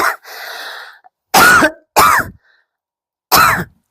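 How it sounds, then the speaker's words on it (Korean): A person coughs and clears their throat: a breathy throat-clearing, then three sharp, close, loud coughs separated by short silences. "기침이 나오려고 해서 조금 불안해요."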